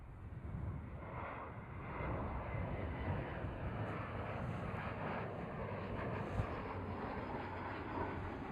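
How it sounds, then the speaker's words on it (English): A KLM Cityhopper Embraer E175 airliner lands at Amsterdam Schiphol, heard as a steady, continuous jet roar with a broad rushing rumble that holds at moderate distance throughout. "KLM City Hopper E175."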